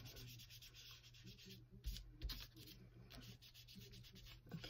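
Soft, steady rubbing of a finger working ink across a paper card while card making, a faint, continuous close-up scuffing with a couple of slightly stronger strokes and a low background hum, without talk.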